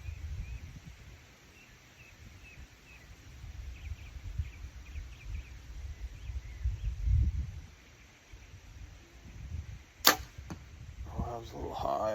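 Outdoors at bow practice, an arrow hits the target with a single sharp smack near the end, after a stretch of quiet rustling, insects and distant birds.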